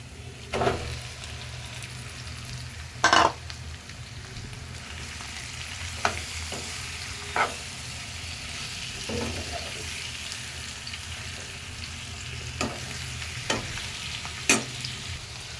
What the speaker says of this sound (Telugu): దీనిలోకి ఇప్పుడు చికెన్ అయితే వేసుకుందాము